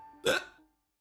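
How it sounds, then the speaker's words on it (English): A single short hiccup, close and fairly loud, a sharp broadband burst with a brief voiced tail, alone in a quiet room. "And now I have a hiccup."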